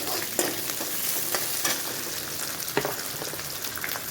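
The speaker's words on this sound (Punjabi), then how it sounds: "ਪਿਆਜ਼ ਇਹਨਾਂ ਨੂੰ ਹਲਕਾ ਜਿਹਾ ਸੌਟੇ ਫਰਾਈ ਕਰਾਂਗੇ" Sliced onions sautéing lightly in a pan give a steady close sizzle for several seconds, with scattered spatula scrapes and stirring clicks over the hiss, and no voices.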